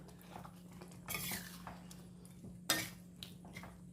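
Spoon stirring chicken gravy with a pinch of black pepper in a pan, giving soft scraping and a few light metallic clinks against the pan over a low steady hum, with no talking.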